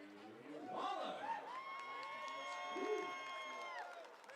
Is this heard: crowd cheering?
yes